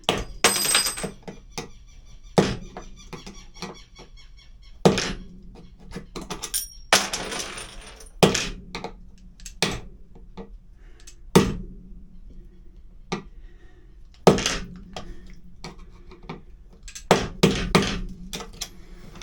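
Metal washers clink and tap sharply as they are worked loose from a boat's fittings, a string of irregular close metallic knocks and drops with quiet pauses between them.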